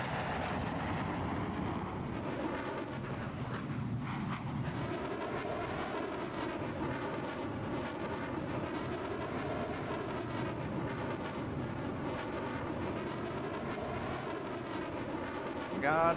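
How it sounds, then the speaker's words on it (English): A loud airplane engine drones steadily in Microsoft Flight Simulator 2024, played on a PS5 Pro, with a rich, sustained roar and wavering tones lasting throughout, and a voice speaks over it. "what plane is that? That thing is loud. It sounds awesome."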